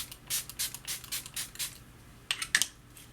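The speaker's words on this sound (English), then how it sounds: "Oh, wait, spraying my face. Gotta spray my face." Makeup Forever Mist and Fix setting spray hisses onto a face in a series of about seven short, even pumps, followed by a couple of sharper handling clicks.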